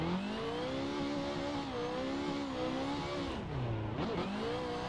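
A race car engine in a racing simulator driven on a MOZA R21 wheel base: a steady, buzzy engine note that drops and swoops through downshifts near the end, with no talk.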